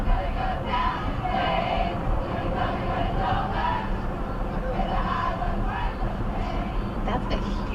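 A large crowd of fans sings along outside a stadium during a concert, a dense, distant-sounding babble of voices that continues throughout, with a voice talking over it.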